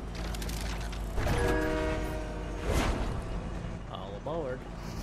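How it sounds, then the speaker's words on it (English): A train in the Fortnite video game rumbles and clanks with horn-like tones under moderate background noise, with a voice briefly heard in between. "I'm getting on the train."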